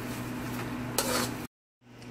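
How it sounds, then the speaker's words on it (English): A big spoon stirs shrimp stir-fry ramen with vegetables in a pan, giving close, steady scraping and clinking over a low kitchen hum, with a louder scrape midway, a brief drop to silence, then quieter stirring resuming. "I'm going to just take a big spoon. I switched out the fork. And I'm just going to stir it in."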